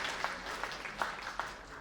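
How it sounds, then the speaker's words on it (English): Faint, distant audience applause at the close of a tech talk session, with a few scattered claps standing out over a soft patter. "let's have big applause"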